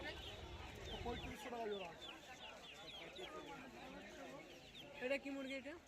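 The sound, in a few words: fighter chickens clucking at Galif Street pet market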